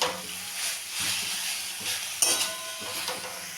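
Turmeric powder being stirred into softened fenugreek greens in a pan, a steady close sizzle with repeated soft scraping strokes of a spatula, one sharper clink midway.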